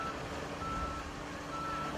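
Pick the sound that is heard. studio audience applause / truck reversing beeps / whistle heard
truck reversing beeps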